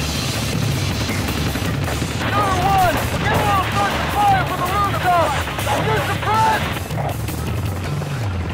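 Attack-helicopter cannon fire in Ace Combat Assault Horizon rumbles as a continuous heavy roar with rapid thudding bursts, over a droning rotor and whooshing rounds, while radio voices shout throughout.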